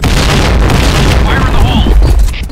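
A grenade explodes with a heavy, rumbling boom in the first-person shooter Point Blank. The blast is loud, close and fills the whole short moment, with game voice callouts mixed in.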